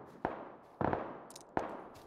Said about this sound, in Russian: Он выстрелил